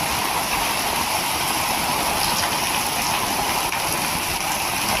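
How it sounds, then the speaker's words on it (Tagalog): Heavy rain from Typhoon Carina pouring down steadily on surfaces amid flooding, a dense, loud, unbroken hiss. "Lalong lumakas guys yung ano, yung ulan ni Karina"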